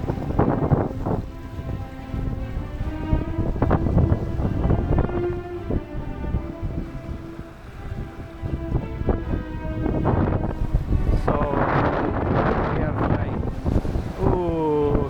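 Strong wind roars over a sailboat at sea running on autopilot, with heavy gusty buffeting and a churning rush that stays loud throughout, and a voice faintly present within the noise.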